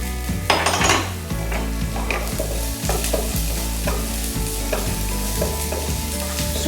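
Sliced onions and garlic stir-fry in a very hot wok, a constant sizzle broken by repeated clanks and scrapes of a utensil against the metal, with no voices.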